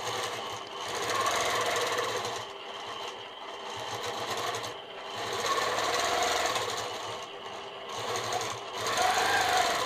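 A sewing machine stitches in fast, steady bursts during freehand quilting, running loud and close with brief pauses between runs and no talking.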